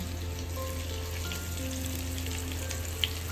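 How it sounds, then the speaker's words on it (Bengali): Ground spice paste sizzling and frying in a hot pan for biryani, a steady continuous crackle with a low hum beneath and one brief sharp tap near the end, close and alone. "এবার এই মশলাটা দিয়ে কষিয়ে দেবো"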